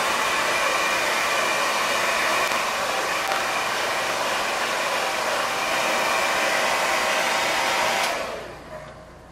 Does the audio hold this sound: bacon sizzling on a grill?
no